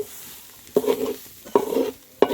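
Dried red chilies and tamarind fry in a pan, with three sharp stirring scrapes over a soft sizzle, each stir lasting about half a second.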